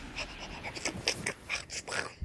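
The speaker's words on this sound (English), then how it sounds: "My dog is making way too much noises" A dog pants rapidly and close, quick breathy puffs in a steady rhythm with a few snorts, alone and fairly loud over a faint background.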